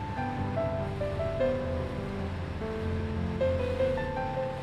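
Sea waves wash around a harbor cleanup boat out on open water, a continuous rushing surge with a low rumble and some wind buffeting, fairly close, with tonal engine or machinery hum running underneath.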